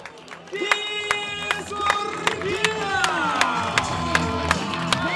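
A crowd claps and cheers at a pankration fight after the bout ends in a submission, a steady burst of sharp claps rising over a noisy arena with a loud voice carrying on top.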